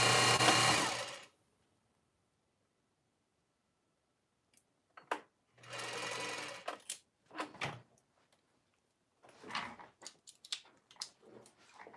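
A sewing machine runs in short bursts: a loud stretch at the start, another around the middle and scattered brief stitching runs with clicks and pauses of silence between them, close by.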